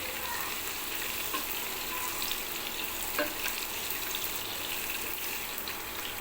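Onions brown in hot oil with cinnamon, cardamom, bay leaf and a little cumin, giving a steady, close, dense sizzle with faint occasional stirring scrapes.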